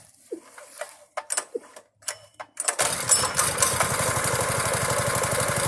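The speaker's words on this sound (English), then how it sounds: "So we'll fire the engine up real quick and we'll see if it'll go anywhere." A few clicks and sputters, then a small go-kart engine catches and runs with a fast, steady putter that holds loud and even.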